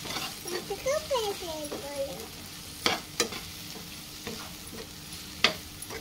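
Drumstick curry with coriander powder and garam masala frying in a pan, a steady sizzle with stirring scrapes and a few sharp utensil taps, while someone talks near the start.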